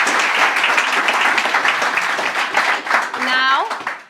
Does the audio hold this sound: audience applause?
yes